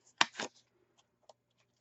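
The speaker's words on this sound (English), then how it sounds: "Again, I'm cutting out the corners here." Fiskars titanium scissors cut the corners of a paper pocket for a mini album, giving two quick close crisp snips followed by a few faint ticks and taps in a quiet room.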